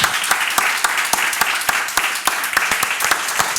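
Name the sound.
audience applause for the authors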